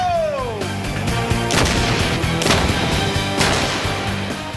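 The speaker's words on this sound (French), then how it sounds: "Explosion en surface dans" A surface explosion set off for a trench test booms with sharp broadband blasts and a rolling rumble, several heavy impacts spread across a few seconds at close to moderate distance, with no talking over it.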